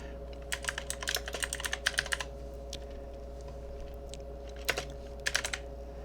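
Fingers typing a command on a computer keyboard while configuring a Raspberry Pi file server: quick bursts of close, crisp keystrokes, a pause, then a few more key presses, with no talking.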